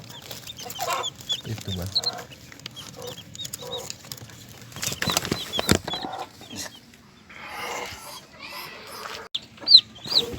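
A mother hen clucks in short, soft bursts close by on a backyard farm, scattered over ten seconds amid rustling and handling noises, with a voice speaking briefly in between.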